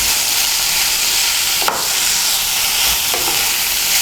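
Eggplant pieces being stirred into radish greens frying in a pan, with a steady sizzle and two brief scrapes of the spoon against the pan.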